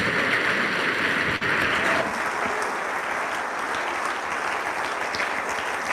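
An audience at The Platform Nigeria conference keeps up a dense, continuous applause after a talk, many hands clapping at an even, loud level throughout, briefly dipping near the start.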